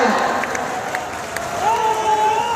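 Loud applause and crowd noise at a foundation-stone ceremony for a solar manufacturing plant, clapping mixed with cheering, while a sustained tonal sound, like music or a horn, rises in partway through.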